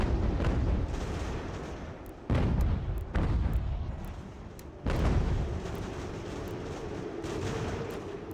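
Mortar and artillery fire on a Revolutionary War battlefield in Ultimate General: American Revolution, heard as deep booms at irregular intervals over a constant battle rumble. Faint crackling shots sound between the booms.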